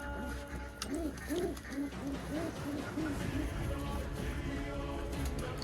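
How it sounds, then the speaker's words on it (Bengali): Pigeons coo nearby in a run of soft, rhythmic rolling calls repeated several times, over a steady low background hum. "আর আমার হারানো পায়রা একটা ফেরত এসছে,"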